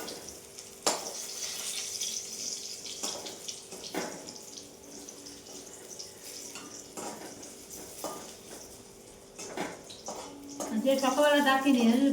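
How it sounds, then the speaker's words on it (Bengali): Hot water runs steadily from a household tap, mixed with light clinks of dishes. A voice speaks over it toward the end. "জল পড়ছে গরম জল"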